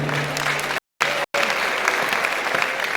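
Students at a university orientation for fresh students applaud the Dean in a hall, a dense, steady wash of clapping that fills the room, cut by two brief dropouts.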